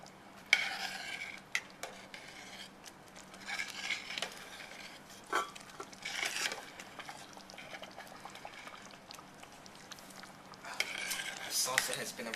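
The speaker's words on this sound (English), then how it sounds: "You have to stir until all the liquid has been absorbed." Arroz being stirred in a pot until the liquid is absorbed: repeated scraping strokes of a utensil against the pan come in irregular bursts over a soft, steady simmer.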